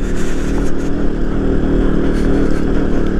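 A heavily loaded KTM Duke 125 motorcycle climbs a steep, rough mountain road in second gear, its engine droning loud and steady throughout at close range.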